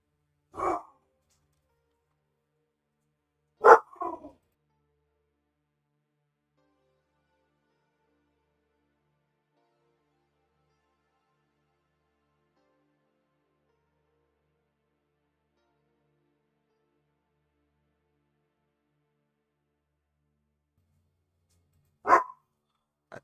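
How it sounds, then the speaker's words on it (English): Dogs barking indoors nearby, three or four isolated single barks spaced far apart across long stretches of silence. "These dogs, man. They don't bark all day, and then I start streaming, and then here they go."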